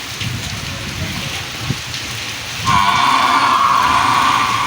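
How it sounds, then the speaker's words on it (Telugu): Steady broadband hiss of heavy cyclone rain throughout, growing louder and denser about halfway through, with no voices. "వాన బాగా పడుతుంది."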